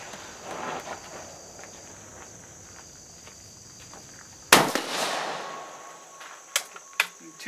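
A single sharp crack from a Savage Axis .223 rifle with a Weaver scope fired at a 50-yard range, loud and abrupt after quiet outdoor ambience with insects, followed by a few faint clicks and handling noises.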